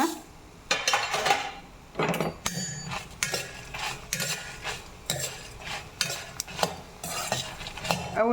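Mustard seeds crackle and pop in hot oil on a gas stove, mixed with clinks and scrapes of a metal spoon against the pan, in steady bursts close by without talk.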